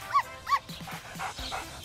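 A toy puppy at a kids' picnic gives a few short, high yips and barks close up, two clear calls followed by softer quick yaps.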